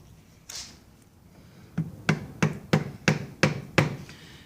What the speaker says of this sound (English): Let's use my chisel.